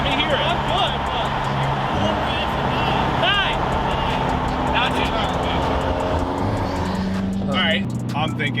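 A stage 2 tuned Subaru WRX idles and revs on a cold day, its exhaust rumbling steadily with sharp popping and crackling bursts, close and loud, with people talking nearby.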